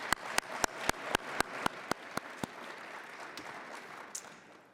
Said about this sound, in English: So another round of applause for Dr. Tina Harris.